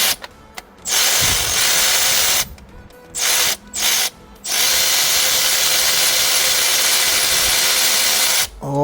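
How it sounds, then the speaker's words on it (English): An electric ratchet removes a water pump bolt on a 12th-generation Toyota Corolla E210, whirring loudly in several short bursts and then running in one long continuous spin at close range. "I should be able to get to this with my electric ratchet now"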